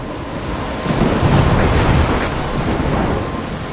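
A roaring thunderstorm with heavy rain in Life is Strange, a dense, loud wash of rain and wind that swells into a deep rumble midway, with no voices.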